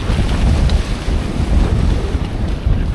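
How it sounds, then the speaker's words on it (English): Bora wind gusting over a Hobie Cat 16 catamaran sailing at sea, loud buffeting wind roar on the microphone with rushing water and waves, gusts swelling and easing throughout, no talking. "Now the Bora kicked in."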